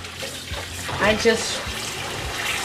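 A kitchen tap runs steadily while salmon is rinsed under it, with water splashing over the fish at close range; a person speaks briefly over the flow.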